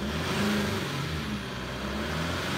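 A Chevrolet Colorado ZR2 diesel pickup engine revs steadily and close by, a low, continuous rumble lasting a couple of seconds with no talking.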